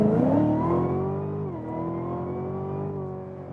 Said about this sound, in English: And we start our performance car review with the performance acceleration.